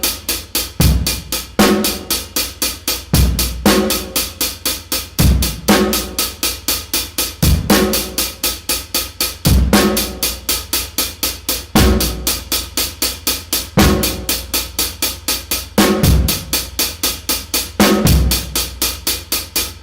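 Drum kit beat with every hi-hat note played by one hand, a steady, loud repeating groove of crisp hi-hat strokes over regular kick and snare hits, with no talking.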